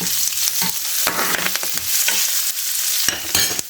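Onions and curry leaves fry in a pan for a tomato kulambu and are stirred, with scraping strokes over a steady, close sizzle and no talking.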